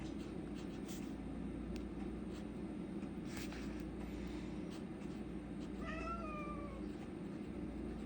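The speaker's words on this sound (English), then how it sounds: "that's my cat if you can hear that" A single drawn-out meow rises from a cat somewhere in the room, faint against a steady low background hum.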